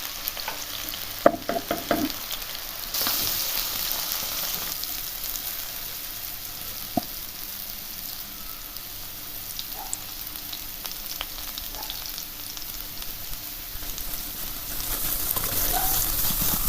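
Potatoes fry with turmeric in a pan, a steady low sizzle with occasional spoon clatter and stirring scrapes, mostly without talking.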